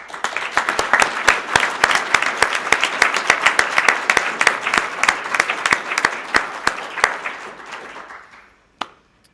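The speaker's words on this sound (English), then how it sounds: "Please join me for a big round of applause." Audience at a chamber of commerce annual review luncheon applauds steadily with many hands for about eight seconds, a close, dense patter that ends abruptly, followed by a few final isolated claps.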